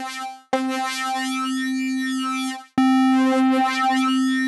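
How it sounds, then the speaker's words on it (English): A HALion Sonic Flux wavetable synth plays a sustained bright buzzy note with distortion modulation, struck twice, each tone holding steady with rich stacked harmonics, loud and alone. "this is just going to turn the distortion control up momentarily."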